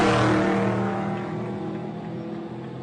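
Trophy Truck race engine at the SCORE Baja 1000 in a loud, sustained roar that fades steadily as the vehicle pulls away, with no talk over it.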